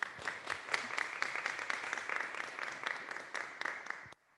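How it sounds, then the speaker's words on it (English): A lecture-hall audience claps steadily through a plenary session, dense, even applause that holds for about four seconds, then stops abruptly. "I hope you hear the cheering applause"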